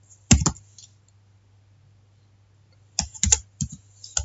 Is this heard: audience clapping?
no